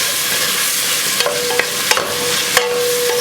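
Bacon fries in a pan with a loud, continuous sizzle while a utensil stirs it, giving a few sharp scraping clicks over the steady crackle.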